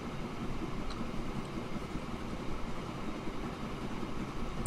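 A steam locomotive pulls away in the railway game Transport Fever, giving a steady, broad rumble and hiss that stays even and fairly loud throughout, with no talking.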